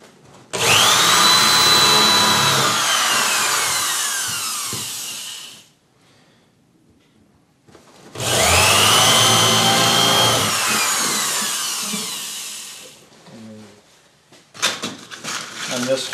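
Power drill driving screws into the thin wooden outside transom rail of a small boat build, two long, loud, close whirring runs with rising and falling motor pitch, separated by a quiet gap and followed by brief handling noises.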